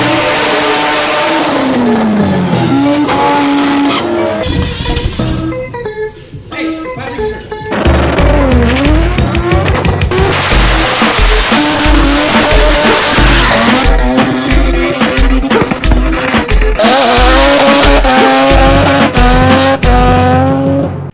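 A car does a loud burnout at a USDrift drifting event, its engine revving hard in rising and falling sweeps while the tires squeal continuously, with a brief dip before the roar resumes.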